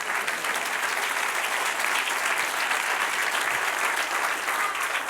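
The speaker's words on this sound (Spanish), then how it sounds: "Dan un aplauso, Señor." A church congregation bursts into steady applause during a sermon, a dense, even wash of clapping filling the room at moderate volume with no voices over it.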